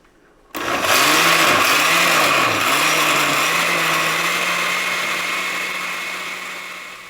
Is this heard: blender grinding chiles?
yes